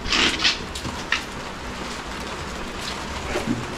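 Heavy rain pours over open grassland as a steady hiss of drops, close and fairly loud, with a few sharper splashes and knocks, no voices.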